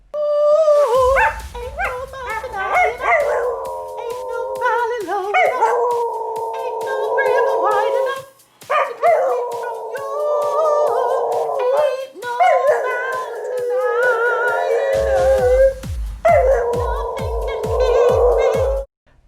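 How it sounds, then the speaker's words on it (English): A dog howls along with its owner's singing, the long wavering howls and the human voice rising and falling together at close range, with brief pauses and a few sharp accompaniment beats near the start and end. "So here is a dog singing with its owner"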